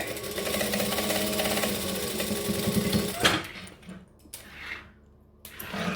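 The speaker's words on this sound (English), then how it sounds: "you can just chuck the bag down, stitch and back stitch, and then off we go." A sewing machine runs steadily as it stitches and back-stitches along the edge of a bag, a close, continuous mechanical whir that stops abruptly partway through, followed by quieter handling noises and a brief restart.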